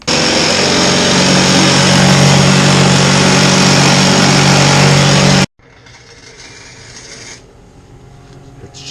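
A Chicago Electric welder runs on a rusty muffler side pipe in a garage, a loud steady crackling hiss for about five seconds that cuts off abruptly, leaving a quiet room.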